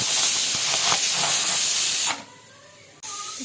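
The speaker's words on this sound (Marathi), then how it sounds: "मिस्टर शौर्यासाठी मी थोडासा वट कुकरला लावलेला आहे." A pressure cooker releasing steam in a home kitchen, a loud continuous hiss that cuts off abruptly after about two seconds, leaving a faint low background.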